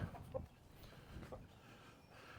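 A few soft clucks from chickens, low and close, scattered over a quiet background.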